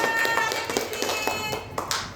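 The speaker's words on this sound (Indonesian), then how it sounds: "Mari kita berikan tepuk tangan kepada Bu Fitri." Audience applause at a school event: a burst of hand clapping with distinct individual claps, fairly close and lively, fading toward the end.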